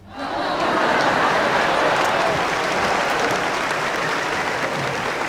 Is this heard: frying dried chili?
no